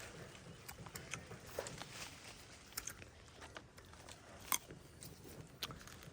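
Unripe guava bitten and chewed close up, with a few crisp crunches and quieter chewing in between over faint background noise.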